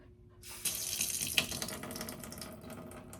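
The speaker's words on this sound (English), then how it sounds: "Hot water just trickling." Hot water tap in an RV camper running at low pressure, a thin steady trickle of water splashing into a sink, close and continuous after a brief quiet start, with no talk.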